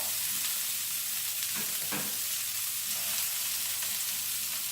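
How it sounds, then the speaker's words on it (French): Chicken meatballs drop into a pan of simmering tomato sauce with a couple of soft plops, then a steady bubbling sizzle and gentle stirring continue close by, with no voices. "je vais prendre les boulettes et les mettre dedans"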